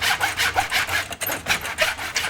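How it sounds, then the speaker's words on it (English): A hand saw cuts through pine match lining boards in quick, rhythmic back-and-forth strokes, a rasping wood-sawing sound heard close and loud with no talking. "we cut the match lining to length, which we use for the sides, top and base of our chest"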